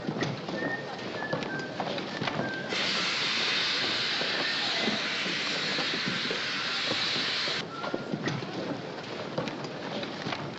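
A steam train at a station releases a long, loud hiss of steam lasting several seconds, amid a busy platform where people talk and pigeons coo.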